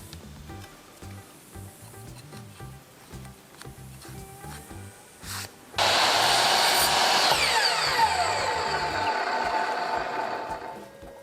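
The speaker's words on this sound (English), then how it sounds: "I used a Forstner bit on the drill press to drill the 2 holes for the marbles." A drill press bores holes in a thin piece of pallet wood with a Forstner bit, starting after quiet handling noises with a sudden loud, sustained whirring grind that tapers slowly in pitch.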